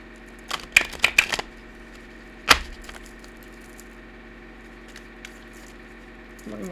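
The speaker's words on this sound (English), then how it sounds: "I better probably shuffle them." A few quick riffling clicks of a tarot card deck being shuffled close up, then one sharp snap, followed by near silence.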